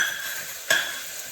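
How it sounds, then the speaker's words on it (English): Fresh ginger sizzles in a hot oiled pan for a curry, giving a steady bright frying hiss with a short sharp crackle and stir about halfway through, close and without talk. "that's how it should look, sizzling."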